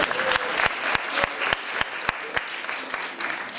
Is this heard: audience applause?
yes